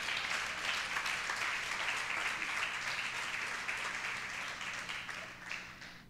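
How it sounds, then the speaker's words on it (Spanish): A church congregation at a faith crusade service gives steady, dense applause that keeps going evenly and fades slightly toward the end, heard at a moderate distance. "Dale un aplauso al Señor."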